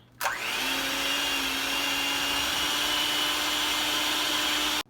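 Electric mixer creaming cream cheese and mascarpone in a bowl for a berry Chantilly cake, starting abruptly and holding a steady loud whirring drone for several seconds before cutting off, close and without talking.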